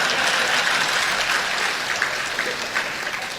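An audience in Melur claps steadily in a dense, sustained round of applause that fills the room and tapers slightly toward the end, with no talk over it.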